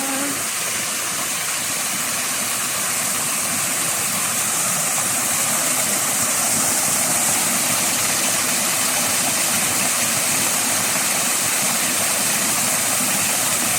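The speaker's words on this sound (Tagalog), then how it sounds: "Ito po yung falls." Waterfall in Shatin Park, Hong Kong: a steady, broadband rush of falling water that holds constant and fairly loud throughout, with no voices over it.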